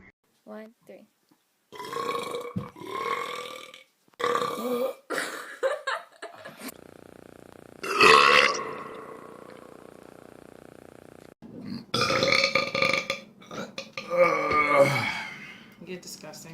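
Loud, drawn-out belch rises near 8 seconds and fades into a long rumbling tail, set among bursts of chatter and laughter from several voices, with more talking after it.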